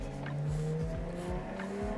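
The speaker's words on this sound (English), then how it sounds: "And that is a loud car." A loud car roars past outside with engine revving and tire noise, a short close pass that fills the stretch without any talk.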